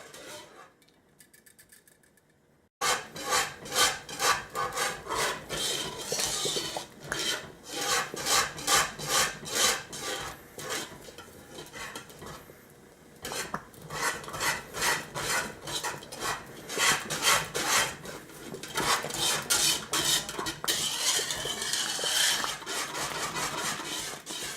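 A thick coconut and corn pudding mixture for maja mais is stirred steadily, giving a continuous run of rhythmic rasping scrapes, close and fairly loud, with a brief quieter pause partway through.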